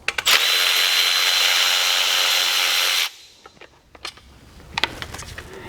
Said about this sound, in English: Now all we got to do is back off this 10mm bolt.